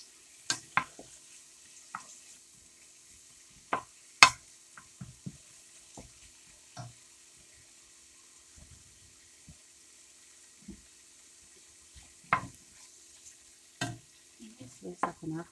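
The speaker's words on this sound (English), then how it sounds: "Oh yeah, I can hear it sizzle." Food sizzles quietly in a pan while being stirred with a wooden spoon, sparse crackles and scraping taps coming in short bursts over a faint steady hiss, close and soft.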